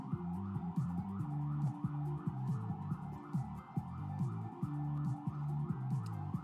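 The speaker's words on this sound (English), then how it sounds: "Just listening to the sirens as the ambulance just doesn't move." A wailing ambulance siren rises and falls repeatedly over steady traffic noise, the ambulance stuck in place, loud and continuous throughout, with no talking.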